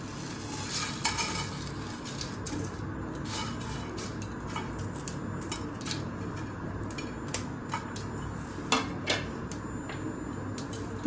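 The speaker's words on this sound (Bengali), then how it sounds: "ফ্রাইং প্যানটা গরম হয়ে গেছে, মশলাটা একটু ড্রাই রোস্ট করে নেব" Whole spices dry-roast in a hot frying pan, a soft continuous sizzle broken by sharp scraping and ticking as they are stirred and shaken, close and fairly quiet.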